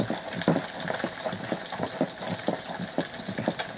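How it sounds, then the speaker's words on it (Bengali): An electric grinder whirs steadily as cashews and raisins are ground together into a paste, a continuous close hum with faint rhythmic churning pulses and no talking. "এবার কাজু কিশমিশটাকে একসাথেই বেটে নিচ্ছি"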